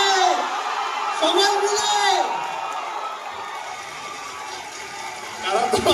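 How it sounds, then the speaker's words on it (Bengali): A live audience cheers and whoops around voices calling out, with loud crowd bursts rising and falling over about six seconds. "জোরে হাততালি হবে"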